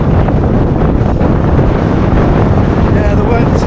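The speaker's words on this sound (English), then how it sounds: "the wind is quite brutal" Strong, gusting wind roars on an exposed mountainside, buffeting the microphone in a loud, continuous rush with no let-up.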